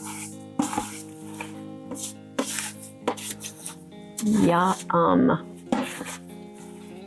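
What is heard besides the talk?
stirring pie filling in an Instant Pot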